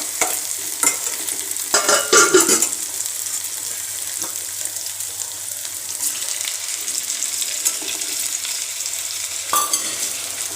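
Tomatoes and softened onions fry in a pan for chicken curry, with a steady sizzle under loud stirring scrapes and clatter near the start and again near the end.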